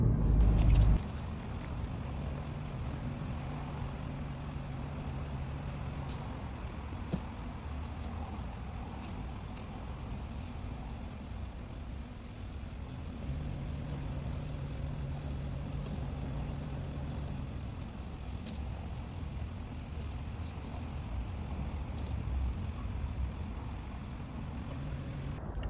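A car cruising steadily along quiet back roads, a continuous low engine and road rumble holding even throughout with no talking.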